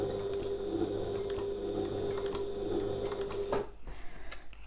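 A domestic sewing machine set to a very short stitch length runs steadily at close range for about three and a half seconds, a smooth motor hum with fast rhythmic ticking, then stops abruptly and leaves faint room noise.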